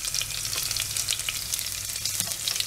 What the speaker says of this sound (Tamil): இது ஒரு 2 பரட்டு அந்த பூண்டு நல்லா வாசம் வந்துடும்